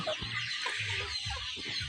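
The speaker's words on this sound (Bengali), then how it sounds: "এখানে 100 মুরগি আছে।" About 100 two-and-a-half-month-old Sonali chickens in a shed cluck and murmur close by in a steady chorus, soft repeated calls overlapping over a constant background hum.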